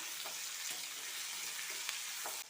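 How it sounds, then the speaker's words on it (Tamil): Tomatoes sautéing in a pan for a chutney give a steady, close sizzle with a few faint stirring scrapes, and no one speaks. "ஒரு மீடியம் சைஸ் தக்காளி சேர்த்துடலாம் இந்த சட்னிக்கு தேவையான அளவு உப்பு தக்காளி ஒரு நிமிஷம் போல் வதங்கி வரட்டும்"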